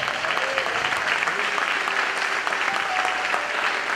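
A church congregation applauds during a sermon, a steady, dense wash of clapping that holds evenly throughout with no talk over it.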